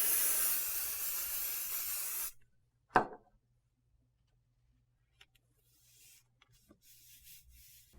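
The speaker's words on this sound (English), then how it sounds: "So we're going to just fold it over and spray lightly on one side." An aerosol can of temporary embroidery adhesive sprays in a steady hiss for about two seconds, then stops; a sharp knock and faint handling noises follow in quiet.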